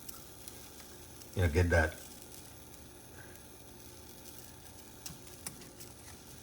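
A venison steak fries in duck fat with a soft, steady sizzle running throughout, briefly interrupted by a short spoken phrase.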